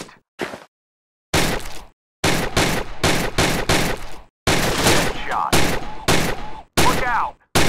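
Gunfire from the VR shooting game Gun Club VR comes in rapid, loud bursts of sharp cracks, separated by brief silences, with a few ringing metallic tones between shots.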